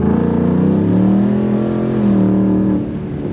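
A straight-piped 2019 Ford Mustang GT revs hard, its loud raspy exhaust rising in pitch and holding before dropping off, heard up close with no talk.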